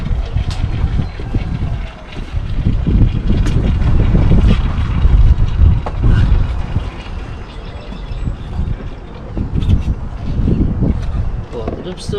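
An outboard boat motor runs on the water, a rough low rumble mixed with heavy wind buffeting on the microphone and splashing, with someone talking over it.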